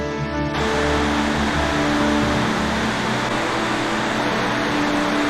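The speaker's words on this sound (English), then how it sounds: "Pretty impressive waterfall." Broad, steady roar of rushing water from Fantail Falls on New Zealand's west coast, loud and constant, with a low hum fading out early on.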